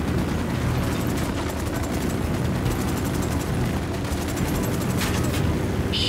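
Heavy gunfire in Ghost Recon Wildlands rattles in continuous dense bursts over a loud rumbling battle din, with sharper volleys near the end.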